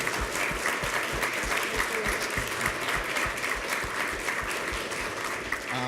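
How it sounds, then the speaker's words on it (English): Steady applause from an audience at an inclusive sport forum, dense continuous clapping at close range that holds evenly for several seconds with no voices over it. "I'd like to give a huge round of applause to both Chris and Lindsay."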